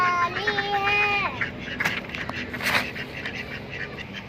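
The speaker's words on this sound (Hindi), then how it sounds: "मेरी बत्तखें भी खुश हो रही हैं इस मौसम को देख के" Pet ducks quack and chatter close by, several calls overlapping at first and then thinning to scattered quacks, while a bird-like whistle sounds briefly at the start.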